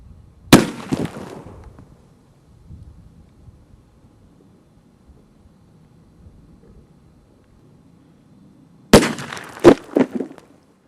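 A 9mm carbine fires Black Talon rounds into a root beer target outdoors. Two sharp, loud gunshots come about eight seconds apart, the second followed by quick splashing and clattering impacts, with quiet ambient sound in between.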